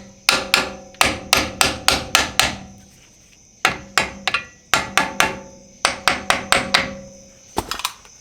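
A hammer taps a truck brake caliper on a 2001 Ford F-150 during a brake job, metallic strikes landing in quick bursts of four to six blows, with short pauses between groups, loud and close with no talk.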